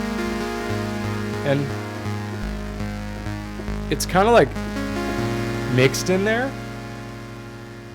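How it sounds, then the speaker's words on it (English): Synthesizer tone with noise modulating its filter, giving a fizzy, shifting texture over a sustained harmonic drone, with a few warbling pitch sweeps; someone talks over it. "what if we use noise to modulate the filter?"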